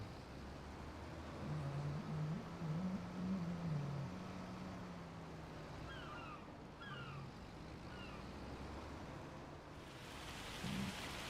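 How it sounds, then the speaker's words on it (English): Rain falling in a farming sim video game, a steady soft hiss of rainfall that continues throughout with low rumbling underneath and a few faint chirp-like tones. "it's starting to rain"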